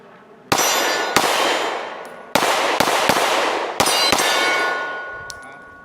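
Rifle fitted with a Recover Tactical S-Pro stabilizer kit fires the rest of its magazine. About seven loud, sharp shots ring out in an uneven rhythm, close by, each one trailing into a long, ringing echo, with no talking.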